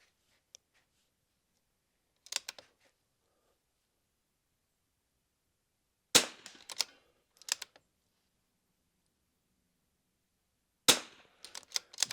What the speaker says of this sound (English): We're shooting target 1.